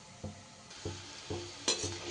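Vegetables frying in oil in a kadai, a soft sizzle broken by four short, evenly spaced scraping strokes, faint and close.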